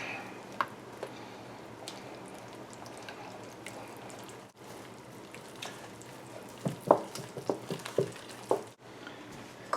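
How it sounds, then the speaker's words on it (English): Challah dough stirred with a wooden spoon in a bowl: soft, irregular scraping and dull knocks, quiet at first, then a cluster of sharper clacks toward the end, with no talking. "You can use a wooden spoon for the first couple of cups."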